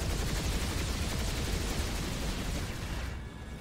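Dense, sustained gunfire in a video game match, a loud continuous rattle of rapid shots and blasts that fills the whole stretch and eases slightly at the end, with no talking.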